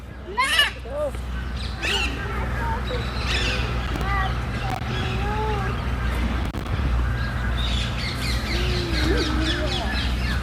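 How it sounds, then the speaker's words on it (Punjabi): Several birds call outdoors, with harsh crow-like caws and squawks at intervals over a low steady hum, fairly near. "ਪੰਛੀਆਂ ਦੀ ਆਵਾਜ਼"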